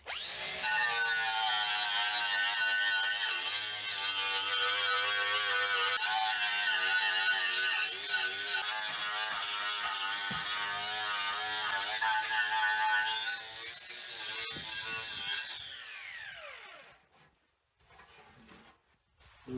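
An abrasive power tool spins against a rusty oil pan from a 1999 Dodge Ram, making a loud, high, steady whine that holds for about fifteen seconds before winding down to quiet.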